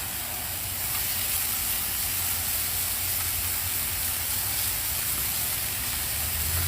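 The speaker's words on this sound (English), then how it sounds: "we're going to get the bacon going for our creme brulee" Bacon sizzling on a Blackstone griddle, a loud, steady broadband hiss with no breaks and no voices.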